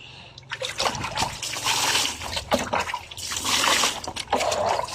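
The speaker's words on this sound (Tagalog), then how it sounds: "banlawan muna natin yung ilang nasabon natin" Running water splashes and trickles outdoors as soaped items are rinsed, with uneven pours and splatters rising and falling close to the microphone.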